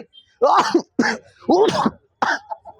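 Several harsh, throaty coughs or throat-clearing bursts come in quick succession, close and voiced, with short pauses between them.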